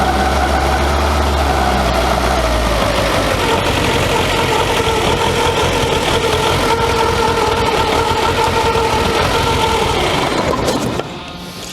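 Volkswagen Scirocco barn-find engine idling rich with a fuel injector in need of clearing, a loud steady close-up drone and mechanical chatter that holds for about eleven seconds before dropping off near the end.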